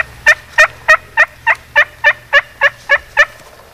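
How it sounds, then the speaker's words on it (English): A wild turkey gobbles in spring woods in Ohio, a loud, close run of about eleven evenly spaced, ringing calls, with no voices. "After hearing this gobble, we knew we had to move on these birds."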